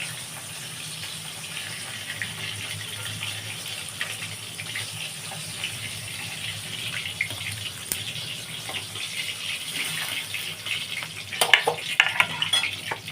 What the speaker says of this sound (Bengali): মাছগুলো ভাজা হোক বন্ধুরা।